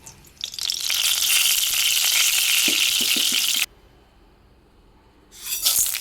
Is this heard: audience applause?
no